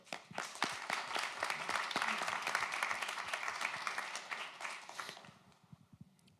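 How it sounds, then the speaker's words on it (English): A crowd applauding steadily for several seconds, dense overlapping claps that fade out toward the end, with a little talk mixed in. "give a round of applause for Claudio as well."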